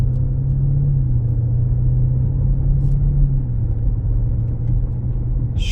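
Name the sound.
2023 Lamborghini Urus S driving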